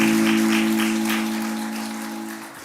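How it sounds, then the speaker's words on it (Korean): Church congregation applauding at a Korean Friday evening worship service, a broad steady patter of many hands, sustained and fairly loud throughout, with a constant low organ or keyboard tone held underneath and slowly fading toward the end. "우리 하나님께 영광의 박수 올려드리겠습니다."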